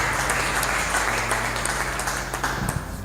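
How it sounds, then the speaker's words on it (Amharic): A church congregation in Addis Ababa claps in a dense, steady burst of applause that carries throughout, with faint sustained musical tones beneath. "አጨብጭቡ"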